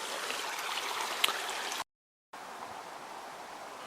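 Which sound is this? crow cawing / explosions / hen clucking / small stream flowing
small stream flowing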